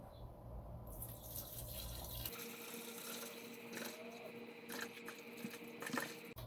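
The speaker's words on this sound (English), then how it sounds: "All right, so now we need to add the water." Water pours from a bottle into a container as part of a measured 5.67-liter fill, a steady, continuous splashing stream that runs unbroken for several seconds, close and alone with no talk.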